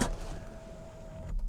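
A Mercedes SLK R172 steering column motor raises the steering wheel with a steady, faint electric whine lasting just over a second, close by in a quiet car interior, ending with a soft stop.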